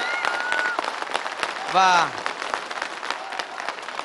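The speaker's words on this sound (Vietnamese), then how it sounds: "rất mong quý vị sẽ có những tràng pháo tay nồng nhiệt hơn nữa để cổ vũ cho tiết mục sắp biểu diễn trên sân khấu." An audience at a televised singing competition final applauds a stage performance with steady, sustained clapping, while a host's voice talks over it.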